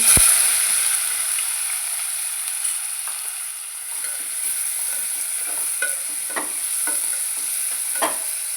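Finely chopped onion frying in a pan for a mushroom curry, a continuous close sizzle with intermittent scraping clicks from stirring throughout, no talking.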